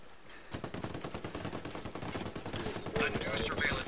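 Sustained rapid automatic gunfire in the Ghost Recon Breakpoint video game, a dense rhythmic stream of close, loud shots growing more intense toward the end.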